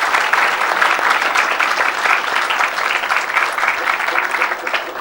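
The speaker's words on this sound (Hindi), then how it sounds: "अरे ताली तो बजाओ।" Continuous clapping from a gathered audience at a satsang at Kailash Dham, a dense, lively patter of many hands sustained throughout, close and fairly loud.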